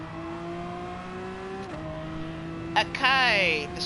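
A Pagani Zonda's engine drones steadily in a racing game at Fuji Speedway, shifting pitch as it accelerates, then rising into a sweeping high whine near the end, with a voice talking over it.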